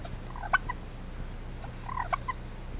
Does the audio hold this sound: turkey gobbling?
yes